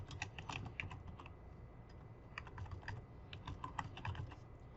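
A page heading is typed on a computer keyboard for a Microsoft Word report, producing quick, near, continuous clicking keystrokes in uneven bursts, alone in a quiet room.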